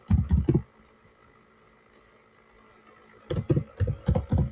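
Keys on a computer keyboard clatter in two quick bursts of typing Python code, with a quiet pause between them and no voices.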